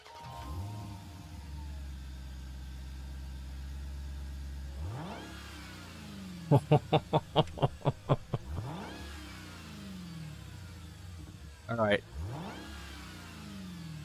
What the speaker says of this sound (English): Let's have a quick listen to the SRT Hellcat.